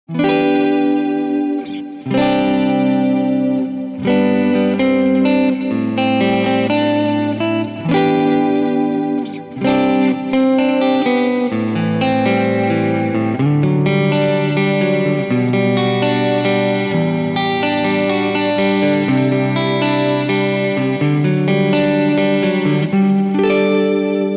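Sustained Gretsch electric guitar chords, neck pickup, ring out through chorus and distortion effects, thick and shimmering, playing continuously with no voices.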